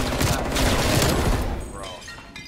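Rapid gunfire in the video game Call of Duty Cold War forms a dense, loud burst of shots that fades out toward the end, with voices talking underneath.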